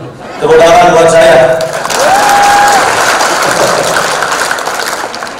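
A crowd applauds at a halalbihalal gathering of a large ministry family, with steady, loud clapping over several seconds and a few whistle-like tones and voices mixed in.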